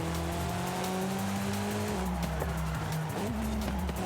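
A Lynk & Co car racing in the Forza Horizon 5 video game, its engine droning steadily with shifting tonal pitch and tire squeal over continuous road noise.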